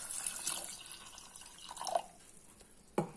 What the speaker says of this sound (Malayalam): ഇനി നമുക്ക് വെള്ളം ഒഴിക്കണം.